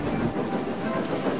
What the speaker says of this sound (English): As the express thundered through,